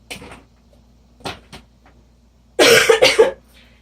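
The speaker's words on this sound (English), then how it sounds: "Excuse me for coughing." A few short, dry coughs at first, then a louder burst of harsh coughing near the end, close by.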